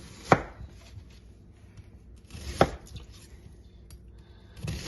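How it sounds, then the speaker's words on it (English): Knife slicing peeled food on a cutting board with a sliding stroke, three sharp separate cuts spaced a couple of seconds apart, close and clear with quiet between. "we're going to slice this. And you do that with sort of that part of the knife with a little bit of a sliding action"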